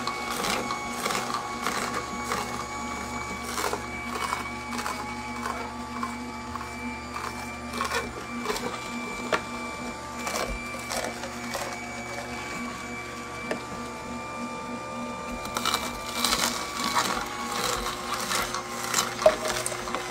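KEDEMAS AMR520 cold press slow masticating juicer crushing carrot or celery: a low steady motor hum broken by repeated sharp cracks and snaps, irregular at first and thickening into a busy burst of crunching near the end.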